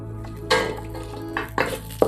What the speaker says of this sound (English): and then we'll add curry leaf.